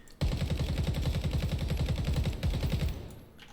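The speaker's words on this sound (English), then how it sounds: "Let's give the AK Tactical a quick go." Rapid automatic fire from an AK Tactical rifle in the shooter game Ground Branch: one loud, steady burst of close shots lasting about three seconds, followed by a brief fading tail.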